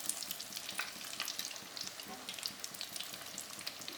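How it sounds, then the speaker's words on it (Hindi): Potato doughnuts (aloo donuts) frying in hot oil over a low flame, giving a steady, dense crackle and sizzle with busy popping throughout, moderately quiet and close, no voices. "माशाल्लाह से ज़बरदस्त हमारे फ्राई हो रहे हैं"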